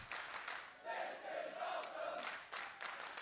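A wrestling crowd at a PWA match cheers and roars in appreciation, swelling in a long sustained shout with scattered claps and whistles, heard from within the arena at moderate distance.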